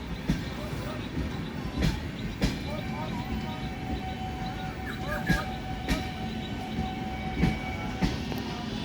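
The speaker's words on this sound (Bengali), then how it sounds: "এক্সপ্রেস ট্রেনটি হলো ডাউন বিশ্বভারতী ইন্টারসিটি এক্সপ্রেস" Down Biswabharati Intercity Express passing with a steady rolling rumble and periodic wheel clacks over rail joints, a faint horn-like tone running through, at moderate distance.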